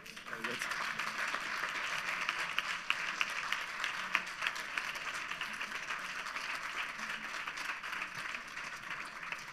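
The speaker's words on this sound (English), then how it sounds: "I guess that's your applause." An audience claps after a talk and question session about banning nuclear weapons. The dense, even applause holds steady, is moderately distant and lasts the whole stretch.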